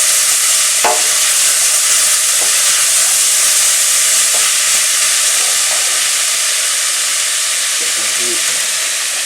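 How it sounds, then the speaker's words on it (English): Onions and celery sweat in a pan and give off a loud, steady sizzle and hiss. Faint clicks of stirring come through now and then, and no one speaks. "So now our onions and celery have sweated down"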